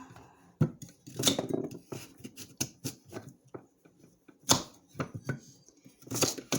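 Irregular knife chops through onions on a cutting board, sharp percussive hits in uneven bursts with short pauses, close and fairly loud, no talking.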